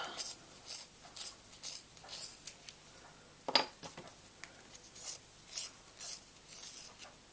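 Graphite pencil scratching fine coral and honeycomb-like details onto paper: short, quiet, repeated strokes in an irregular rhythm, close up, with a sharper tap partway through.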